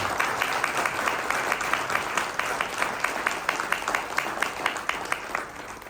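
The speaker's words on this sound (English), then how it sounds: "Tarun is the only stood up and clapped" An audience claps in a steady, rhythmic stream after a talk on lessons from mythology. The evenly spaced, sharp claps sound moderately close and stand alone without speech, as if from only a few people.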